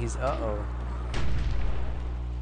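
Mortar Dwarf firing in a fantasy strategy video game match: one muffled, booming shot lands about midway, its low rumble decaying over the following second amid a steady droning game background.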